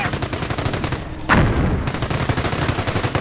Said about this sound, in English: they have a machine gun, and they're building another machine gun within range of the German base